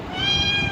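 A pet cat gives a single close, clear meow that holds its pitch for under a second, loud against a quiet room.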